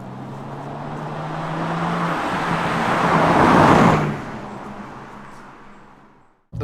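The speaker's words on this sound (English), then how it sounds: "it shifts through those gears smoothly and at earlier rev points" A BMW M2 G87 drives around town, its engine note and road noise swelling steadily to a broad peak, then easing off smoothly as it changes gear and fading near the end, with no talk.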